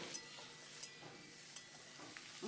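Potatoes frying in oil, a steady soft sizzle with a few light scraping clicks of a spatula stirring them.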